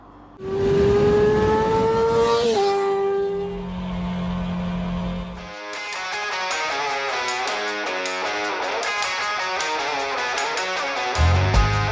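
A 2025 Yamaha MT-09 motorcycle with automated manual transmission revs loudly with a rising engine tone, then settles to a lower steady note before a dense, even sound takes over.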